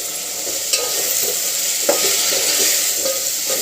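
Potatoes are stirred into a hot spice tempering for masala khichdi, giving a steady, loud sizzle broken by a few scraping clinks of the spoon against the pan, with no voices.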